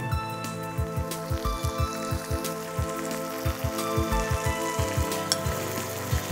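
Fried onion masala sizzling loudly in a pan as water is added, with sharp popping crackles and spattering bursts over a continuous hiss, close by.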